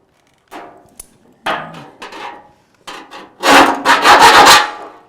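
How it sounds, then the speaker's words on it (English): A hand file rasps at a hole in sheet metal in short scraping strokes, a few light passes followed by a cluster of louder, quick back-and-forth strokes close to the microphone. "we're going to file the hole just to get any of those little shavings kind of worked off there"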